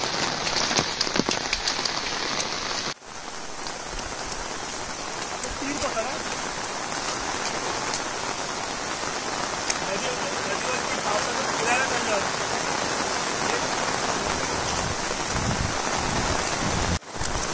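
Heavy monsoon rain pours steadily in a Konkan village, a dense continuous hiss of downpour close by that holds through the whole stretch, with a brief dip early on.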